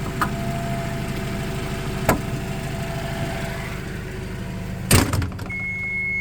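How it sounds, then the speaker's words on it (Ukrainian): A Toyota 02-8FGF30 forklift from 2018 with an LPG-fuelled engine idles steadily while its hood is shut, a single loud metallic thump near the end, preceded by a couple of lighter knocks. "Закриваю капот."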